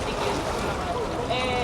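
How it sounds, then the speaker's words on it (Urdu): Sea water lapping and washing beside a moving ferry in Barcelona harbor near the Maremagnum shopping mall, a steady close rush of water with wind and engine noise underneath. "پانی کی آواز آ رہی ہے آپ کو؟"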